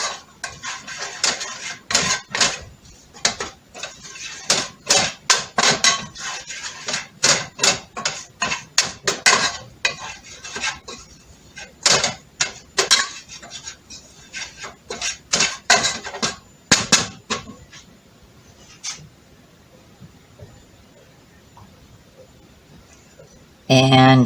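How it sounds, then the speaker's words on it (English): Stirring beef enchilada filling in a pan, with a steady run of quick metallic scrapes and clatters of utensil against cookware that thin out toward the end. "now I'm stirring that up"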